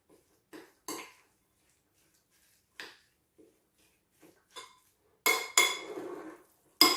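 Utensils clink and scrape against a bowl while a lamb marinade is mixed, with scattered short taps early on and then a louder, denser burst of clattering near the end.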